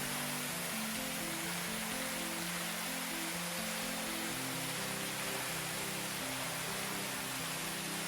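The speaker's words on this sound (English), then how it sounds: "we come to the East Anderson Branch Falls" East Anderson Branch Falls, a tall waterfall in the Big South Fork, gives a steady, even roar of falling water that fills the whole stretch with constant rushing noise.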